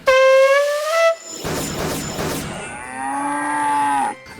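A buffalo at a stable gives a loud, drawn-out moo, then a breathy hissing stretch, then a second long, lower moo. The calls are close and strong, with no talking.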